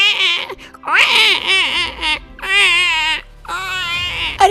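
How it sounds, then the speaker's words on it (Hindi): A cartoon baby cries in loud, wavering wails, broken into several bursts with brief gaps between them. "कहीं से बच्चे की रोने की आहट सुनाई दे रही है"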